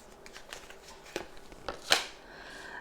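Tarot cards being handled and shuffled, soft riffles and a few sharper snaps as cards slip and fall, close and quiet.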